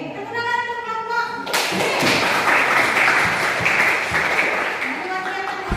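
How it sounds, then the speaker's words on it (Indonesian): A classroom audience claps for a student group after its presentation. A voice speaks briefly first, then dense, lively clapping swells up and runs steadily to the end, close by and loud. "Oke, tepuk tangan untuk kelompok."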